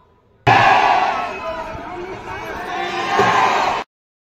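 A dense, loud roar of a packed crowd at a village flag-hoisting ceremony, many voices shouting and chattering at once, close and continuous for about three seconds before cutting off abruptly.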